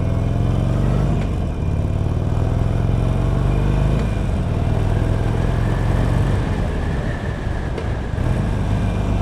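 A 2021 Harley-Davidson Sportster 1200 Forty-Eight motorcycle engine pulls steadily through the gears while riding, its loud, continuous low rumble rising in pitch as it accelerates, close and unbroken with wind noise throughout.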